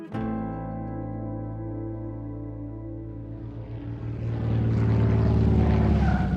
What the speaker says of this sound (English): The plane lands.